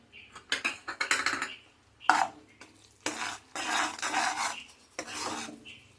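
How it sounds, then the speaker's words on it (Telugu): Jaggery syrup with sesame seeds being stirred in a pan for sesame laddus, heard as repeated close scraping and rasping strokes with short pauses between bursts. "ఇలా కలుపుకుంటూ ఉండాలండి."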